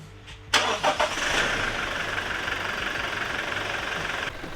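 A 2022 Toyota engine cranks and fires, settling into a steady idle that drones on nearby and fairly loud, with no talking.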